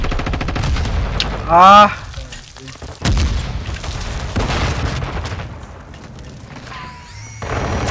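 Modern Warfare 2 gameplay fills with loud rapid gunfire bursts and booming grenade explosions, dense and continuous with sharp impacts, while a player talks and exclaims over the action.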